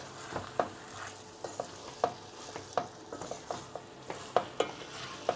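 Vine leaf filling with dill stirred in a pot for Aegean-style olive oil stuffed grape leaves, a soft moist churning with a dozen sharp spoon clinks against the metal at irregular intervals, no voices.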